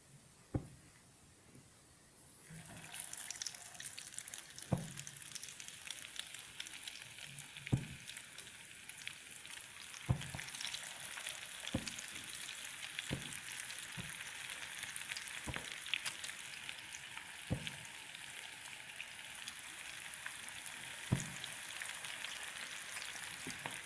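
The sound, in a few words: chicken veg sticks deep frying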